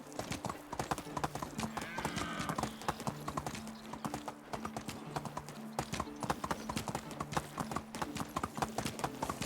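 Steady, brisk clip-clop of horse hooves from a trotting mount in Medieval Dynasty, continuous and fairly quiet, with faint background tones and no clear talk.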